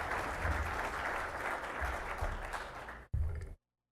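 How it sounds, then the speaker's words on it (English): An audience applauds to welcome a speaker at an industry forum, a dense, steady wash of clapping that breaks briefly near the end, resumes for a moment, then cuts off abruptly. "Please help me give him a hand of applause and welcome him."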